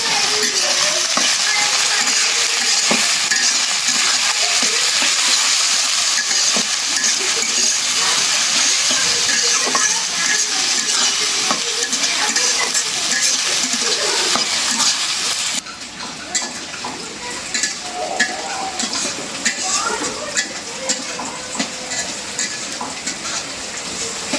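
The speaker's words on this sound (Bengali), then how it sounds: "রসুন পেঁয়াজ কাঁচামরিচ ভেজে নিলাম" Garlic, onion and green chili frying in a pan, with a dense, steady sizzle and stirring scrapes close by. The sizzle drops to a softer, crackling level partway through.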